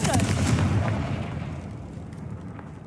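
A Confringo fire spell explodes in Hogwarts Legacy, a loud booming blast up front that rolls into a long, fading rumble with no voices over it.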